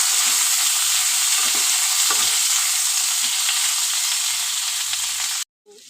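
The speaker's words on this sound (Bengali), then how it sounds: "চলো হালকা করে একটু ভেজে নিই সবজিগুলো।" Drumstick and vegetables such as potato and pointed gourd fry in a pan with a steady, loud sizzle, broken by brief scraping stirs, before cutting off abruptly at the end.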